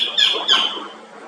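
A white-collared kingfisher at a nature retreat in Batangas gives two loud, harsh squawking notes in quick succession, close and clear, then fades.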